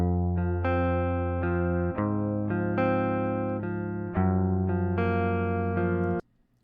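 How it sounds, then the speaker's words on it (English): Unprocessed direct-input electric guitar plays back clean, with a run of sustained single notes and chords over about six seconds, close and dry with no amp tone, then stops abruptly. "But this is just a straight DI track that I had as I played it."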